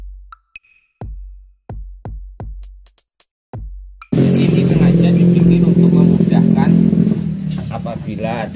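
Several sharp pull-cord tugs on a grass-cutting lawn mower engine during a start test, then the engine catches and runs loud and steady, dipping slightly near the end; the mower has a fault where it dies suddenly once hot.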